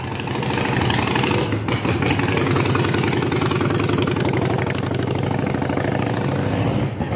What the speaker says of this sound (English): motorcycles are so obnoxiously loud